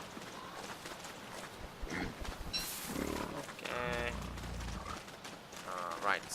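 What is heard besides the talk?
pigs in the video game Don't Starve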